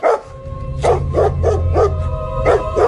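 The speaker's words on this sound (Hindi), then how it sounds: "बिंदिया को देखते ही वो जोर जोर से भौंकने लगा।" A dog barks loudly and repeatedly near the listener: about seven sharp barks in an uneven rhythm, heard alone over a low hum.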